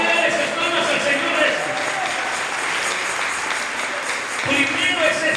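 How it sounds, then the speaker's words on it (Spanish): Church congregation clapping for the Lord during a sermon, a sustained wash of applause with murmuring voices woven through, dipping briefly then swelling again toward the end. "¿Le quiere dar esas palmas al Señor?"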